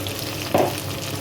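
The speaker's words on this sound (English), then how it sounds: "let that fry until they've gone golden brown" Chopped onions fry in oil with browned ginger and garlic for chicken akhni, a steady close sizzle with one brief louder stir or clatter in the middle.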